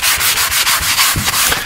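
Sandpaper rubbing over white paint on golden oak wood during a cerusing finish, a steady close scratchy rasp with rhythmic back-and-forth strokes, loud and without voices.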